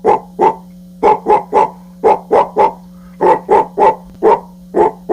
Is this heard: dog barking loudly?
yes